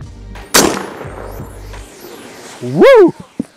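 A single sharp, loud report from an Airforce Texan .50 caliber air rifle firing a cast slug, close by, followed by an excited voice exclaiming.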